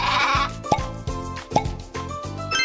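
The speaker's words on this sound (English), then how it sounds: "Right, a sheep." Several short, nasal sheep bleats in quick succession, close and loud, with no talking.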